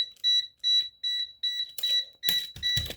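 A Snap Circuits fire alarm sounds a high electronic beep in a steady rhythm, about eight short pulses, loud and close, with clattering handling noise breaking in over the last few beeps.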